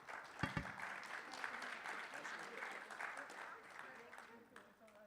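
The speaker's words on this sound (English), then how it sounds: "Please give them all a round of applause." Applause for a conference panel at a health conference in Dubai, moderate scattered clapping from an audience, fairly faint and continuous for a few seconds.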